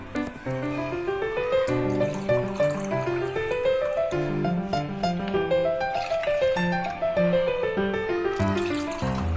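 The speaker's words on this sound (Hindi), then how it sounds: "बिल्कुल चिल और ठंडा पानी 3 कप डालेंगे।" Three cups of cold, chilled water pour into a saucepan for Kashmiri pink chai, a steady filling sound that gradually rises in pitch as the pan fills, close and continuous with no talking.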